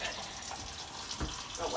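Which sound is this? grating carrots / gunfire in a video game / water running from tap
water running from tap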